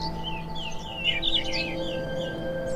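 A bird sings a run of bright, warbling chirps over a steady background hum, the calls moderately loud and clustered in the middle of the stretch.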